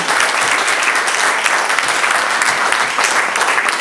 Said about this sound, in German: Herzlichen Applaus wirklich den Mädels